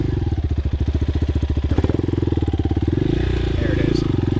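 A CSC TT250 trail motorcycle engine runs steadily and close up with a rapid pulsing throb, its pitch rising briefly as it is revved, while someone speaks over it.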